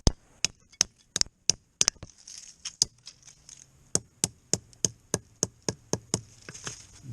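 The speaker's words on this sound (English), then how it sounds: "Hammers." Steel hammer striking repeatedly in a steady, fairly quick rhythm of sharp, close knocks, about twenty blows, with no talking.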